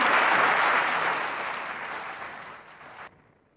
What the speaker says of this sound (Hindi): जोरदार तालियां हो जाए कर्नाटका के लिए.